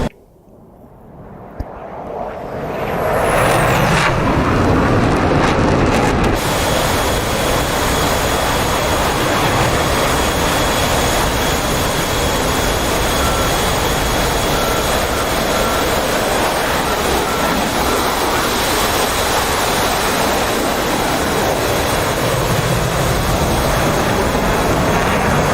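A military jet in DCS World over the Persian Gulf swells from quiet into a loud, sustained broadband roar with a high whine, holding steady for over twenty seconds.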